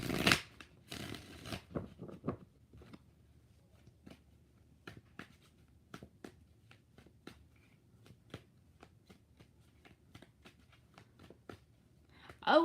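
A deck of tarot cards gives a short, close riffle and shuffle right at the start, then fades into sparse, faint card taps and clicks across a quiet background.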